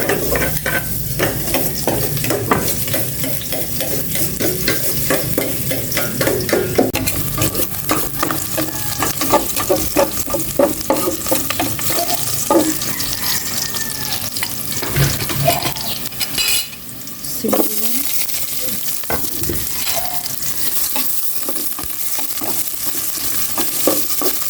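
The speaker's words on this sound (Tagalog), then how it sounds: "Igisa ko na ito, bawang." Garlic sautéing in a hot pan, a steady close sizzle with frequent stirring and scraping of a utensil against the pan, plus occasional clinks of cookware, continuous throughout.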